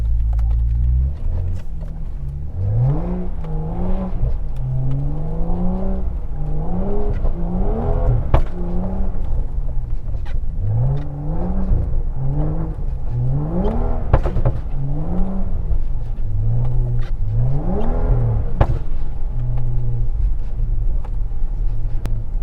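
A BMW 535i revving while being driven in snow, its engine note rising and falling repeatedly in sweeping surges over a constant rumble, heard from inside the car.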